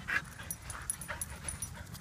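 A brown dog frightened by lightning and thunder pants quickly and lets out faint whimpers, close by and fairly quiet, with no talking.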